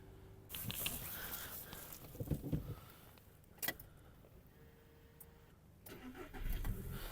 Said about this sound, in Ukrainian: Автомобіль завівся